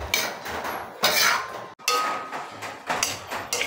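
A metal utensil scrapes and clatters against a pan while chop suey vegetables with chicken liver, chicken and shrimp are stirred, giving repeated close, busy clinks and rustling strokes with no talking.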